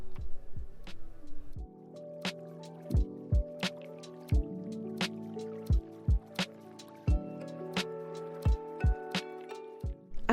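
Castor oil being stirred together with aloe vera gel and leave-in conditioner, giving wet squishing and dripping sounds in a repeated series of short, close, moderately loud sticky squelches.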